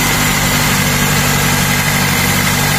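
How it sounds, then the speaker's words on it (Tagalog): A Toyota car engine idles loudly and steadily at elevated revs on a cold start, a constant close droning hum with no pauses. "cold start pa yan, kaya maingay yung makina, mataas yung RPM"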